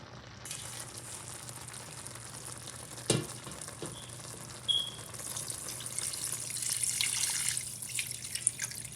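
Curry oxtail simmering in a pot on the stove gives a steady low sizzle and bubbling, with a couple of sharp clinks and a brighter hiss swelling near the end.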